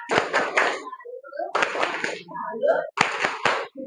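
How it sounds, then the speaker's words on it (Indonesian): A group claps a rhythmic 'good job' clap in a classroom session at Universitas Negeri Makassar, three short bursts of sharp patterned claps with talking between them. "tepuk good job untuk kita semua ya"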